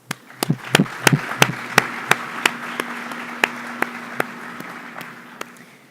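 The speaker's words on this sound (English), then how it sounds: "I think they deserve a round of applause" Scattered applause from the audience at a district honors night, starting with a few sharp claps and thinning into sparse, irregular clapping over a low steady hum, fairly close.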